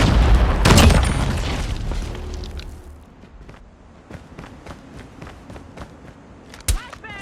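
A grenade detonates in a Call of Duty Mobile Search and Destroy match: a loud, close boom opens with a rumbling tail, followed by scattered footsteps and a sharp late crack.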